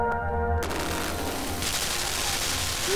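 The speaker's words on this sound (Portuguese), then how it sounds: "O negócio é uma metralhadora, na verdade." A machine gun fires in the side-scrolling video game Limbo, a dense, continuous burst of rapid shots after a brief tonal lead-in, loud and sustained throughout with no pauses.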